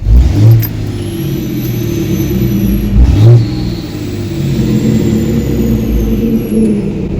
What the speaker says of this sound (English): Playing with that exhaust brake.